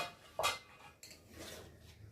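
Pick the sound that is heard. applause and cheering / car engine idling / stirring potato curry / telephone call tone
stirring potato curry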